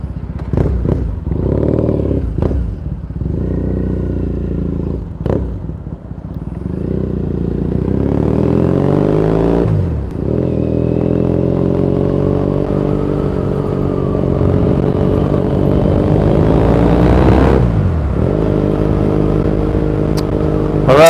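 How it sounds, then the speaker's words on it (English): Motorcycle engine riding through Tokyo streets toward Ikebukuro and Shinjuku, loud and close, idling with short throttle blips, then pulling away in a long steady rising drone through the gears, with no talk over it. "Engine has started. It's an awesome day for a motorcycle ride."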